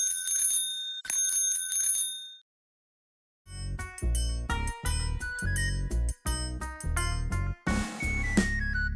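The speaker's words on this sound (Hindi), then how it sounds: "टन टन टन टन घंटी बजाते, लाला जी आए साइकिल चलाते।" Bright bicycle bell rings in quick repeated dings within a children's rhyme, first alone in a few bursts, then over a bouncy musical backing.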